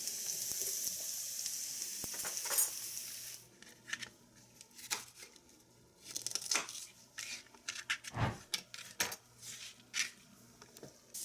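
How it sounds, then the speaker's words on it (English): Onions, garlic and ginger for a shrimp stir fry sizzle in a hot pan: a dense hiss for the first few seconds, then quieter crackling broken by sharp scraping and clinks of a utensil against the pan. "We have the onions, garlic, and ginger cooking"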